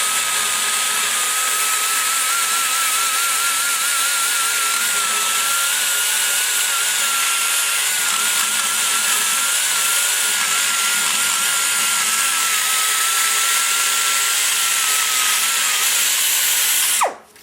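A carbide burr grinds epoxy out of the port tubes in a cylinder head, a loud, steady high-pitched whine held for many seconds before cutting off abruptly at the end.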